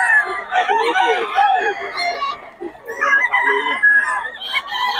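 A young rooster crows and clucks amid other fowl at a busy market, with loud, close calls mixed with people talking.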